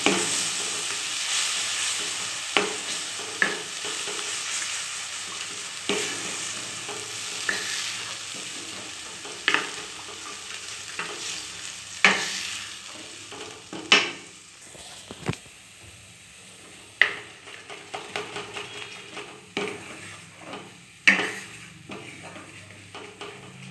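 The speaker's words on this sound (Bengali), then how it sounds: "দইটা দেওয়ার সঙ্গে সঙ্গেই নাড়তে হবে, নাহলে দইটা ফেটে যেতে পারে।" Eggplant frying in a yogurt sauce is stirred steadily in a pan for Bengali doi begun, with a continuous sizzle and repeated sharp scrapes and clinks of the spoon against the pan; no one speaks.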